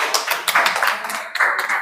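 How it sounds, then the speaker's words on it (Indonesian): Audience applause at a teacher training presentation, a short burst of scattered hand clapping with irregular claps, close and moderately loud. "berikan aplaus."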